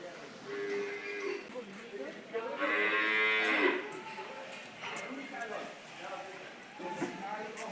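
Cattle at an agro farm moo in long, drawn-out calls, one especially loud in the middle. A few shorter lows and clattering hoof sounds follow, and people talk in the background.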